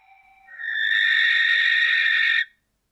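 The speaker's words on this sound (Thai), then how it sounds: "มันคือเสียงร้องของนกค่ะ" A night bird gives a single drawn-out call lasting about two seconds, steady and fairly close, rising in at the start and cutting off sharply, alone with no talk.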